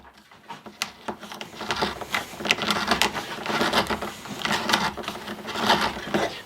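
A homemade tapered tenon cutter spins around a piece of wood, shaving it with a steady scraping, chattering rasp and irregular ticks, close by and moderately loud, with no talking.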